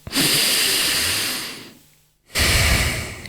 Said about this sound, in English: Here's what non-diaphragmatic breathing looks like.